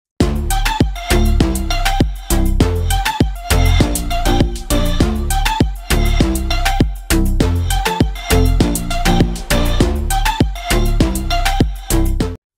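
An electronic music track built from synth patches, deep bass and programmed drums in Logic X plays loud and steady, punchy kicks and snares driving a regular beat throughout, with no talking.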